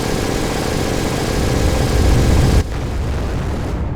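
Tornado aircraft attacking in Wargame AirLand Battle, a video game: a loud, steady roar of engine and explosive rumble that drops abruptly near the end to a lower, continuing drone.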